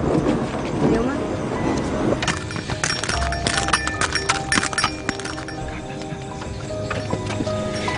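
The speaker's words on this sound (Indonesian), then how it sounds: "Kudanya kenapa meringkik terus" A horse neighs loudly at first, then its hooves clip-clop steadily nearby along with some clinking, while people talk over part of it.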